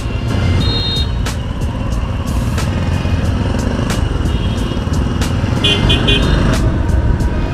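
A car drives past on a road near Chandrima Udyan in Dhaka, a steady broadband engine and tyre rumble under constant traffic noise, with a few faint horn toots in the distance.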